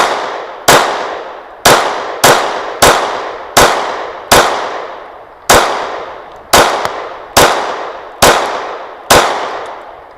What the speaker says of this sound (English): I'm just gonna draw and we're gonna shoot this thing.